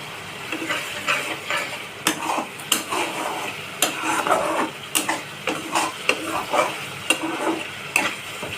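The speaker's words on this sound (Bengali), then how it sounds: "মশলাটা সাথে ভেজে নিচ্ছি।" Spice paste for a mustard pomfret fish curry sizzles in a pan while a utensil scrapes and stirs in regular strokes, producing rhythmic clacks over a continuous frying hiss.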